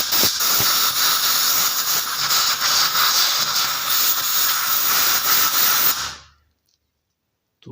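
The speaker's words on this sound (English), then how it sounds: "Now we're using some compressed air." Compressed air hisses loudly and steadily for about six seconds while blowing dirt off a 300cc lawnmower, then cuts off abruptly into silence.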